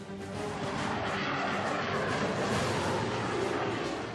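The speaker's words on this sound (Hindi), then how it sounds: "पहली कसौटी, कितना ऊंचा उड़ सकता है राफेल।" A Rafale fighter jet flies overhead with a steady, loud, broadband engine roar that holds evenly throughout without a break.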